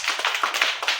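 A Class III classroom of children claps together in a rapid, steady burst of sharp overlapping hand claps, loud and close, lasting about a second.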